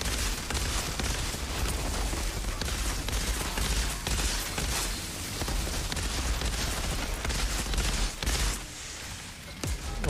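Sniper gunfire and other shooting in a video game, dense and continuous bursts of gunfire filling the whole stretch with near-constant loud cracks and booms.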